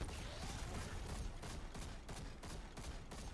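A machine gun fires in Destiny 2 during a Legend Lost Sector fight against a champion, producing a continuous, fairly faint stream of rapid shots with a few slightly stronger pulses.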